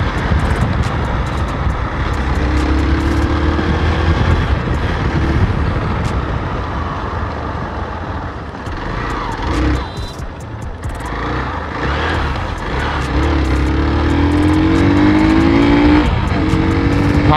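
Hero XPulse 200 BS6 2020 adventure motorcycle riding on the road, a steady engine drone with wind rush, dipping briefly midway then rising again as it accelerates, no talk.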